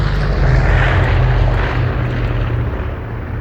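A loud, steady propeller drone of an airdrop plane in the video game Cafe Owner Simulator rumbles throughout, holding close and constant with a deep low hum beneath it.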